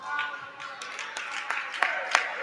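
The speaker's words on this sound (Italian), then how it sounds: "Applausi di Pannarale" Scattered claps from futsal coach Pannarale at a women's match, a handful of sharp hand strikes in uneven rhythm over a murmur of background chatter in the hall.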